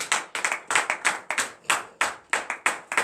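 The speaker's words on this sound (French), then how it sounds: "Donnez l'acclamation à l'Éternel." A church congregation claps together in acclamation at a morning prayer service in Benin, with steady, loud, rhythmic handclaps in quick succession and no talking.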